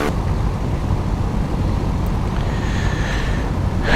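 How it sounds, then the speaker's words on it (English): Scheibe Falke SF25C motor glider with a 2000 cc engine idles on the ground, a loud steady drone mixed with wind buffeting on the microphone, running alone without talk. "the engine is already running"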